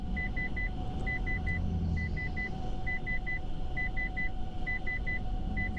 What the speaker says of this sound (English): That sound you're hearing is all the traffic out here.